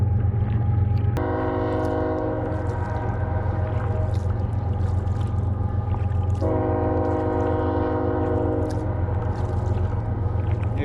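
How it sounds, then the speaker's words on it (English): A train heard from a lake near a New Brunswick campground sounds two long, loud horn blasts over a steady low rumble that echoes across the water. "Hear the train coming here."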